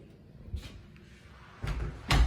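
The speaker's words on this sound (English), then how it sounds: "Front door open." A house's front door opening, with a soft click and then louder thumps and a knock of the door swinging, close by with no talk.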